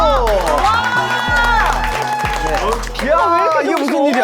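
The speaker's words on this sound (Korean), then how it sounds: "박수!" Studio audience cheering and clapping on a Korean talk show as a guest is welcomed, loud and continuous, mixed with excited shouts and a musical sting underneath.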